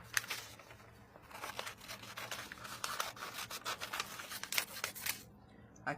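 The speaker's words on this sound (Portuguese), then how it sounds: "vamos começar cortando o nosso molde" Scissors cutting a paper template for a sunflower craft, soft crisp snips and paper rustling in an uneven rhythm, close and fairly quiet with no talk.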